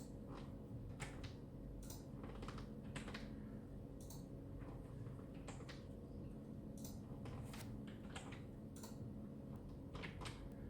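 Scattered, irregular key clicks on a computer keyboard, faint and fairly distant over a low steady hum, with no one talking.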